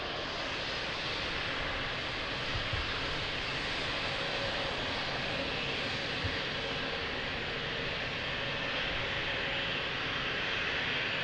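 An airliner lands at Lisbon Airport, a broad, steady jet roar that holds at a constant level throughout and sounds fairly distant, with no voices.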